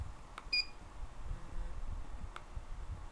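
Short electronic beep from the controller of a Nolting Pro longarm quilting machine, two brief tones near the half-second mark in a quiet room, followed by a faint tick later, no talking.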